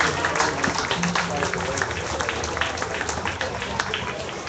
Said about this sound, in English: Let's give these individuals a very nice round of applause on an excellent class of gilts.